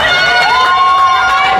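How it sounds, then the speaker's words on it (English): Fans at a junior ice hockey game cheer loudly in a continuous roar, with a sustained whistle-like tone rising above the crowd noise and a voice speaking underneath. "The fans on both sides of the ice just cheering for some good competitive hockey here"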